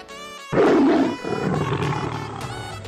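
A man imitates a lion's roar with one loud, rough vocal burst that tails off into a sustained growling tone. The roar is close to the listener and starts abruptly after a short quiet.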